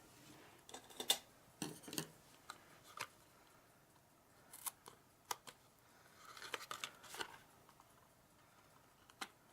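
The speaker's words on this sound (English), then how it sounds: "You might want to give this a little snip." Scissors snipping a paper panel of a star box craft kit, a scattering of quiet, sharp close-up clicks and snips spaced irregularly over near-silence.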